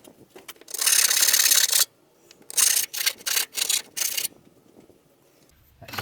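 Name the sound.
filing burrs off a freshly cut metal piece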